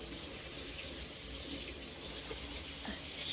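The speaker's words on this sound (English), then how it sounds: "Let my mom wash her spoon." Tap water runs steadily into a kitchen sink as a spoon is rinsed, a continuous close hiss with faint clinks, no talking.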